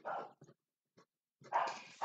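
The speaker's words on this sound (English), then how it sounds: "I'm going to have to stop this video and come back with a part 3 because my dog is barking." Dog barking indoors: a few loud, close barks at the start and again near the end, with short gaps of quiet between them and no talking.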